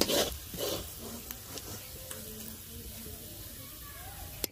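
Onion, ginger and garlic fry in a pan for potato chops with a faint, soft sizzle. A burst of stirring and scraping comes near the start, followed by a few light utensil taps.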